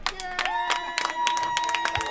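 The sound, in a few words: sarcastic applause by home crowd at girls soccer game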